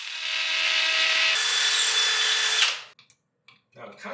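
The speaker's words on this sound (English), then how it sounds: "we're going to try to drill in this pilot hole" A power drill bores a pilot hole for a 3/16 flathead concrete screw, running loud and close with a slight pitch shift midway, then stopping abruptly, followed by brief scraping handling sounds.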